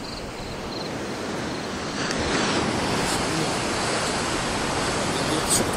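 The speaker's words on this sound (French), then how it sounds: "des petites vagues qui tapent. Et derrière, il y a des grosses vagues" Ocean waves crash against the rocky shore at Puerto de la Cruz, Tenerife, a broad, continuous roar of surf and spray that swells louder about halfway through, close to the listener and mixed with wind buffeting.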